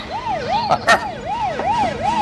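A police car siren wails in a steady repeating up-and-down sweep, fairly loud and close, with a couple of brief knocks or bumps partway through and no talking.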